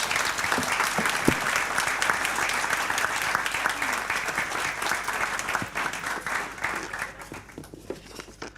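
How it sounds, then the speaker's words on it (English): A round of applause from the audience at a bar association annual meeting after a swearing-in, steady dense clapping that carries on for several seconds before thinning out. "how about a round of applause?"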